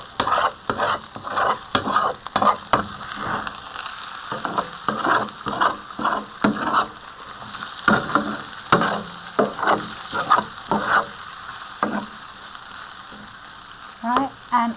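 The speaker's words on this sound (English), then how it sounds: "I'm going to fry that for about 5 minutes until my chicken is cooked" Chicken frying in a pan for a Thai green curry gives a steady sizzle, broken by repeated scraping and clattering strokes as it is stirred. The sounds come close and loud, with no voices.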